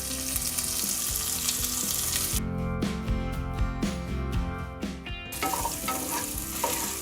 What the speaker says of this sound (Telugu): ఉల్లిపాయలు బ్రౌన్ కలర్ రావాలండి.